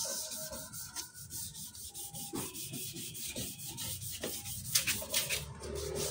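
Sandpaper rasps slowly and evenly across a wet car headlight lens in repeated close strokes, forming a steady rhythmic scrubbing texture.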